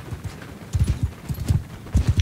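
Horse hooves clop in the video game Mount and Blade II Bannerlord, with many overlapping thudding hoofbeats from riders moving across the field.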